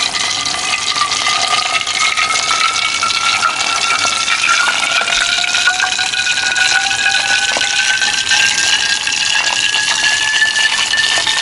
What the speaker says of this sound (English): I like to hear the sizzle. So I'm just going to add it to the sauce like so.